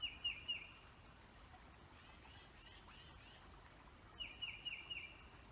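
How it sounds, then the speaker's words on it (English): Several species of birds sing faintly outdoors, with short bursts of high chirps at the start and end and softer twittering in between over low background noise. "5 different kinds of species of birds right behind me."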